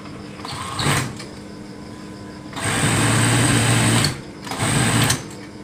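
A sewing machine stitches a baby blanket hat in bursts: a short run near the start, a longer steady run of about a second and a half, then another brief burst, with quiet pauses between them.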